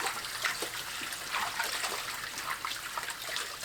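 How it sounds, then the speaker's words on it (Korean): Korean siler greens are rinsed in clean water, with continuous trickling, splashing and sloshing close by and no talking. "깨끗한 물에 두세 번 씻어냅니다."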